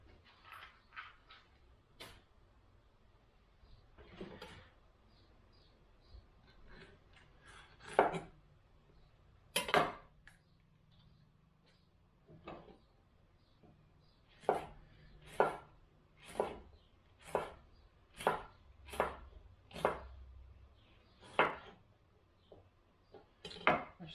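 Peppers being chopped with a knife on a cutting board in a home kitchen, quiet irregular knocks at first, then a run of about a dozen evenly spaced, crisp chops near the end.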